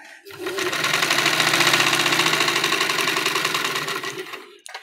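A sewing machine runs in one continuous burst of rapid, even stitching, loud and close, starting abruptly and stopping after about four seconds, with no talk over it.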